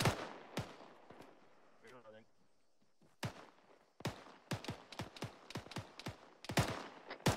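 Rapid gunfire from an ArmA 3 military firefight, delivered as a long run of sharp, loud shots in uneven bursts and single cracks, with a short pause near the middle and a brief voice heard during the lull.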